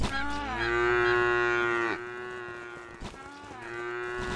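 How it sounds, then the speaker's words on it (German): Cows in the video game Craftopia let out long, loud, tonal moos: one drawn-out call, then a second lower moo and a third rising one close behind, with no talk. "Kuh. Wir müssen Kühe schlachten."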